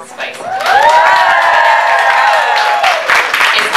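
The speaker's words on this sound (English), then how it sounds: "So yes, round of applause" Crowd cheering and applause at a Sleek MakeUP launch night, loud and sustained with whoops and high shouts rising over a dense bed of clapping, swelling quickly and holding steady before easing near the end.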